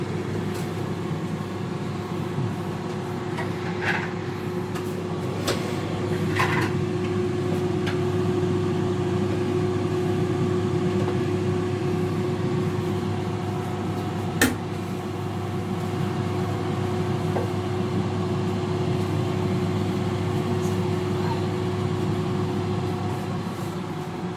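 A deep fryer cooking french fries runs with a steady low hum and a faint constant tone, broken only by a few small clicks and one sharp tick partway through.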